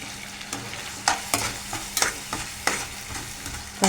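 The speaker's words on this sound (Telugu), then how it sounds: "టమాటాలు బాగా వేగుతున్నాయండి." Tomatoes fry in a pan with salt and turmeric, a soft continuous sizzle broken by regular scraping stirs of a spoon, about one every half second, close and clear with no talk.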